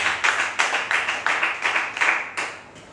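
A church congregation clapping for Jesus, loud, close rhythmic claps in a steady beat of about two or three per second, many hands together with no talk over it.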